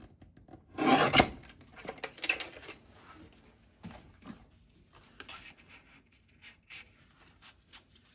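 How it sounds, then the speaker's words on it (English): Scissors trim the edge of a coffee-dyed paper journal card in one loud rasping burst, followed by a few fainter rustles and small paper handling sounds nearby. "I'll just trim it down ever so slightly."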